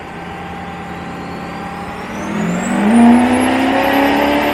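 A compound-turbo Duramax diesel pickup truck engine pulls hard on a dyno, its loud continuous roar climbing steadily in pitch with a rising turbo whine, heard alone without talk.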